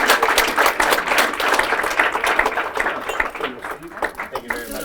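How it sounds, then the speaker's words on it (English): A crowded room of gala attendees claps together, producing a dense, steady wash of applause that stays loud across the whole stretch, with a few voices mixed in. "Give a round of applause for all our external service providers."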